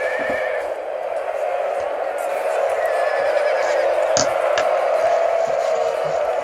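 Grey cavalry horses of the Royal Scots Greys charge amid a steady roar of crowd-like noise, with whinnies and neighing rising over the din and scattered hoofbeat thuds throughout.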